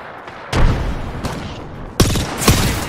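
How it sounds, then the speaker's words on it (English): Frag grenade explosions in a shooter video game, a series of loud booming blasts with sharp onsets and rumbling tails, the biggest hits landing close together near the end. "Frag out. That nade's going to be massive."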